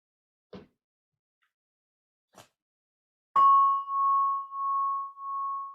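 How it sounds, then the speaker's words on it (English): A meditation gong is struck once after two faint taps, ringing out clearly with a pure, sustained tone that swells and fades in slow pulses, alone in a quiet room. "As the gong fades"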